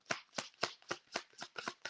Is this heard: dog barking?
no